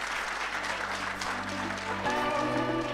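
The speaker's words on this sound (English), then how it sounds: "Can we please give a round of applause for our Honorable Deputy Minister?" Applause from the audience at a national ICT summit welcoming the Deputy Minister to the stage, a steady crowd clapping that carries on through the clip with no talk over it.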